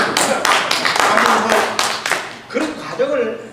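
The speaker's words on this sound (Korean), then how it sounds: "박수 한번 칩시다." An audience clapping at a lecture on three decades of telecom development, a run of loud, near claps with a few sharp slaps, fading as a voice resumes speaking at the end.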